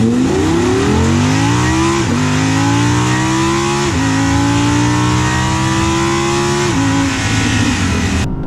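An Audi R8 Performance Quattro with a naturally aspirated 5.2 litre V10 accelerating hard, its loud engine note climbing steadily through several gears with brief dips at each shift, heard up close.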